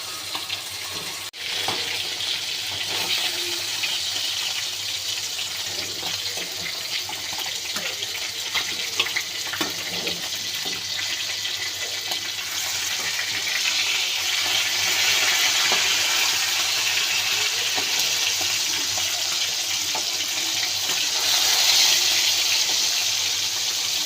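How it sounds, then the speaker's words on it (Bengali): Fish fries in hot oil, giving a steady, loud, hissing sizzle close by that swells slightly over about twenty-four seconds, with no one speaking. "এবার আমার তেল গরম হয়ে গেছে, আমি মাছগুলো ভেজে নেব।"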